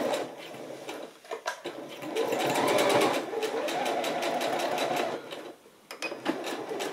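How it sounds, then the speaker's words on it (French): A sewing machine stitches across trouser belt loops in steady runs of rapid mechanical chatter, pausing briefly between bursts, close and clear. "on va réaliser une piqûre juste en haut pour maintenir chacun des passants"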